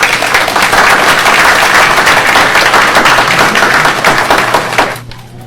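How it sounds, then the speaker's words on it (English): Conference audience at a security event applauding a speaker's introduction, loud dense clapping filling the room for about five seconds before cutting off. "Nice round of applause for Dr. Geer, please"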